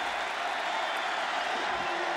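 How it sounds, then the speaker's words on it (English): Steady roar of a California student section cheering a defensive stand at a 1993 college football game against UW, a dense sustained crowd wash filling the stadium with no break. "the student body for California giving its defense a real cheer"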